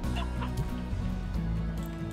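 A chicken in the video game Slime Rancher clucks repeatedly in short rhythmic bursts, close and fairly loud over steady game background sound.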